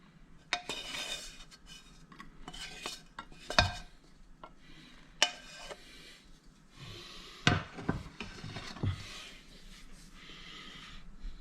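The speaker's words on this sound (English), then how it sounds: "I guess I'll spoon it all over the top" Topping spooned over cepelinai, Lithuanian potato dumplings: a spoon clinks and scrapes against a dish or pot, making scattered close taps and soft wet dollops with quiet pauses between them.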